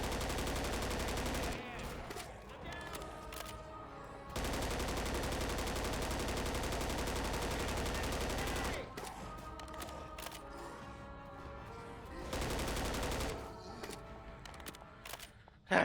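Dense bursts of automatic gunfire from Left 4 Dead 2 on Expert difficulty in the Pouring Down the Drain campaign, loud and sustained in long stretches broken by brief lulls, with game noise and voices mixed in.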